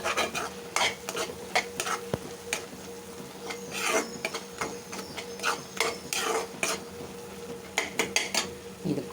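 Masala with home-ground chili powder sautéing in a pan, a continuous close sizzle punctuated by rhythmic scraping strokes of a spoon against the pan's metal surface, fairly quiet and without talk.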